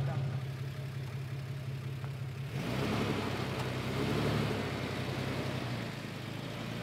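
A stuck RV's engine idles steadily in reverse with no throttle during a recovery, a low, constant rumble that thickens and grows louder partway through and then holds.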